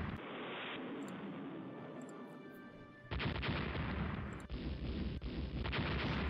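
Naval gunfire from warships in the naval strategy game Rule The Waves, heavy booming salvos over a constant rumbling bed, louder and denser after a sudden surge, with several distinct sharp blasts.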